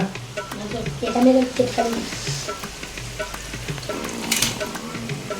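Cabbage Manchurian balls fry in hot oil with a steady close sizzle and bubbling, occasional stirring scrapes, while a voice talks intermittently over it.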